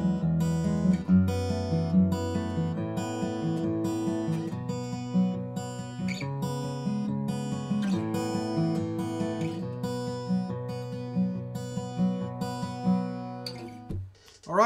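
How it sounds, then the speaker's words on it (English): An acoustic guitar fingerpicks a steady pattern through a sequence of rich chord shapes. Notes ring and overlap throughout, and a short noisy scrape comes at the end. "Some really, really cool sounding chords that just sound fantastic on the acoustic guitar."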